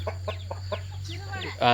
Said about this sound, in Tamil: இது வந்து நாட்டுக்கோழிங்க